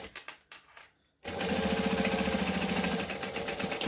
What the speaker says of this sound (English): I am currently stitching 1/8 of an inch from the edge